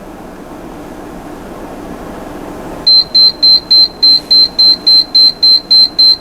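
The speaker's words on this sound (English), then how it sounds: "you hear that alarm" An electronic alarm from a computer that won't turn on beeps in a steady series of about ten sharp, high-pitched pulses, loud and close, after a few seconds of low background hum.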